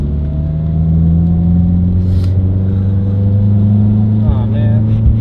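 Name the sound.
Subaru STi engine revving during dyno gear pull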